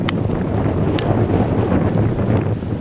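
Strong gusty wind on a very windy outdoor day, a loud continuous low roar and rumble buffeting the microphone throughout, with no talking.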